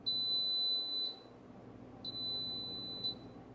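An air fryer signals the end of its preheat with high, pure electronic beeps, two long tones a second apart, a pause, then two more, clear and alone over a quiet kitchen.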